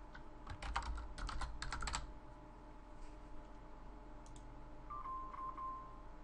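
Keys clatter in quick bursts on a computer keyboard as someone types a short chat greeting and name, loud for about two seconds then sparse and faint over a steady low hum, with no voices.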